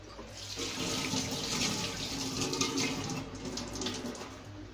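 Tap water runs steadily into a vessel to soak a clean cotton cloth, a continuous close splashing rush with no pauses, moderately quiet.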